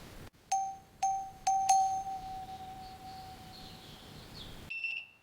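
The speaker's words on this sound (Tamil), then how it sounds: "பெரியம்மா வீட்ல கதவை தட்டினாலும் பெல் அடிச்சாலும் பதிலே இல்ல" A house doorbell rings with four sharp, bright chimes in quick succession, followed by a lingering tone and a final higher two-note ding in a quiet room.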